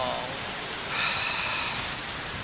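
Steady rainfall on the moors as an audio drama effect, a soft, even hiss at moderate level that continues without pause.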